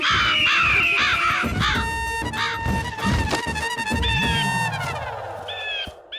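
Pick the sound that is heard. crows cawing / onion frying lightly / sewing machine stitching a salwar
crows cawing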